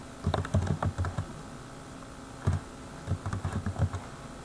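Computer keyboard typed on in short bursts of close, quick keystrokes with a brief pause in the middle, while entering a sheet name in an Excel spreadsheet.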